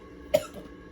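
A single short cough, close and sharp, in an otherwise quiet room.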